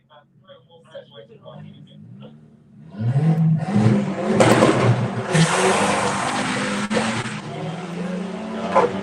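A turbocharged 20-valve Nissan Micra launches down a drag strip with a loud rising engine roar and rasping revs that build and hold. Commentary is heard over a quiet start before the car pulls away.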